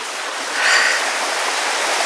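A babbling brook near a woodland footbridge, its stream water flowing in a steady, soft broadband rush that swells slightly midway, close by and alone.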